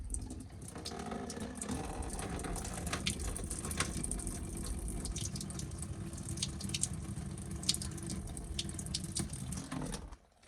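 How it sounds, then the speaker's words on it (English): Water runs and gushes steadily out of an opening, a continuous splashing drain heard close by until it cuts off at the end. "let's let all the water run out"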